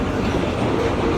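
An R32 subway train on the Q line runs with a loud, continuous rumble and rhythmic wheel clatter, close by and with no voices.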